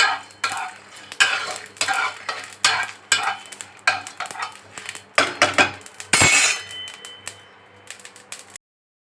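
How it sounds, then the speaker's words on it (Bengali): Whole spices are dry-roasted and stirred in a pan for a chicken malai curry, giving rapid repeated scraping and rattling strokes up close, loud and alone, until the stirring stops near the end. "এগুলো আমি একটু নেড়ে নিচ্ছি এটা আমি শুকনো খোলায় ভেজে নিয়ে তারপর পেস্ট করব"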